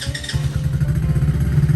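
A 2022 Tao Motor D125 ATV engine catches and settles into a close, pulsing low idle with a quick rev, heard on its own.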